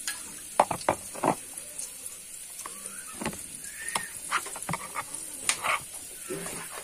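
Onion frying in a pan with stirring: a steady close sizzle broken by frequent crackles, pops and scraping taps of the spoon, with no talk.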